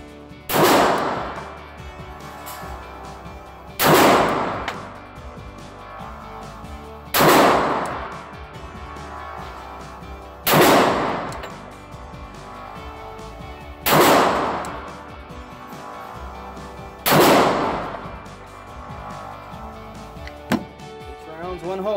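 Six evenly spaced booming shots from a Gen 2 Glock 22 .40 caliber handgun ring out at a range, each a loud close report roughly every three and a half seconds over steady background noise.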